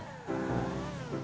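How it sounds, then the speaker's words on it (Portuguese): An old car in GTA 5, its engine revving hard and climbing in pitch as it accelerates, loud and close, with no talk. "Eu já tô acelerando aqui, quase estourando o motor do carro velho"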